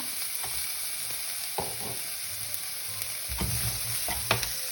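Onions sautéing without oil in a pan for noodles, giving a soft continuous sizzle over a steady hiss, with occasional stirring knocks and scrapes, close and fairly quiet with no talking.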